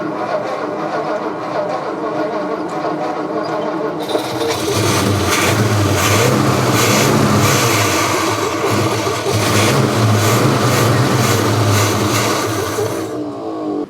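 A 1956 Ford F100 truck engine runs on starter fluid: a low idle rumble, then a loud sustained roar as it revs repeatedly in pulsing surges for about ten seconds before dropping off, close by with no talk.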